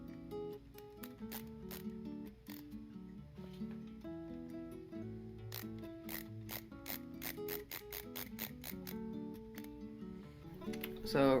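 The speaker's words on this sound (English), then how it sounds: "now I'm just gonna screw the fan grill in" A screwdriver ratchets as a fan grill is screwed into a Fractal Terra PC case, with rapid repeated clicking close to the mic in several runs.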